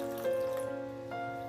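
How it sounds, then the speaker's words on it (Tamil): Water is poured into thick dosa batter in a kitchen. It makes a brief, steady trickle that lasts the whole moment, mixed with a low, constant tonal hum. "நான் வந்து கொஞ்சம் தண்ணி சேர்க்கிறேன்"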